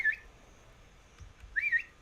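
A character in the inZoi video game whistles two short bright notes, one at the start and one near the end, with a faint low rumble between them in an otherwise quiet scene.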